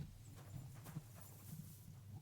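A horse in the medieval role-playing game Kingdom Come: Deliverance II, with soft clip-clop hoof steps and low snorting, faint and steady throughout.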